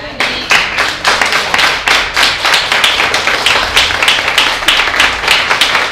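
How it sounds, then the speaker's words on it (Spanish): A church congregation claps during a sermon, loud, close rhythmic hand claps in a fairly even beat that continues throughout, with little else beneath. "Falta un aplauso a él."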